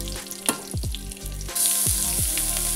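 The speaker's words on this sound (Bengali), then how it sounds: "তেলটা গরম হয়ে গেছে, এবার আমি ফোড়নে দিচ্ছি সাদা জিরে, দিয়ে দিচ্ছি লঙ্কা।" White cumin seeds and chili are dropped into hot oil in a pan for tempering and sizzle loudly and close by, with a sharp burst of spitting crackle that keeps up steadily.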